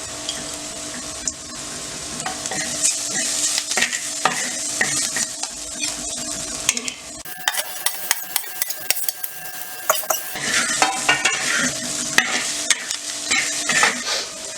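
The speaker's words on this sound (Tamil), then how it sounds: "அதனால் லோ ஃப்ளேம்லேயே வச்சு ஒரு 10 நிமிஷத்துக்கு நீங்கள் கிண்டணும்." A veg liver fry of mung beans is stirred in a pan over low flame, with steady soft sizzling under constant scraping and clinking of a metal spoon against the pan, close and busy throughout.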